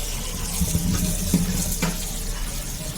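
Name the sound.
washing olives under running tap water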